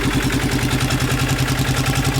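A damaged, smoking Polaris RZR side-by-side engine runs at a steady rough idle, close and loud, with a pulsing low-frequency chug throughout and no talking.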